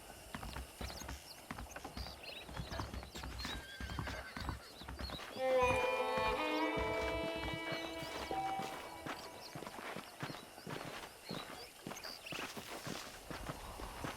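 Hooves clip-clop at a steady walking pace in the video game Red Dead Redemption, with a horse whinnying partway through over a soft outdoor ambience.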